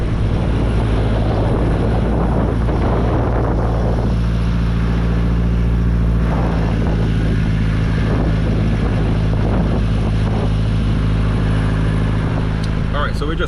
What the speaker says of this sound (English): He's on freaking drone.